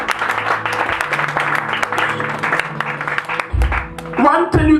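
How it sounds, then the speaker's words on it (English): Congregation clapping during a church sermon, a dense patter of hands under ongoing preaching voice and background music, fairly loud and continuous before a louder voice cuts in near the end. "Clap for Jesus."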